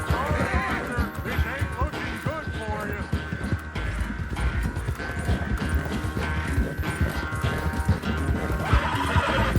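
A horse in the open-world western game Red Dead Redemption 2 whinnies loudly over quick clip-clop hoofbeats, while someone talks over the action and other game sounds continue throughout.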